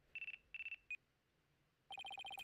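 Quiet electronic phone ringtone in the video game Ace Attorney Dual Destinies, heard alone: two short trilled bursts and a blip, a brief pause, then a faster run of chirping two-tone beeps.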